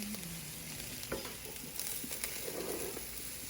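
Onions fry in a pot alongside broken rice for a one-pot dirty rice, giving a soft, low, steady sizzle with faint crackles and a few light stirring sounds.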